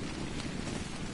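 Steady rain hisses on surfaces in the survival game ARK: Survival Evolved, a dense even wash of drops with no talk over it.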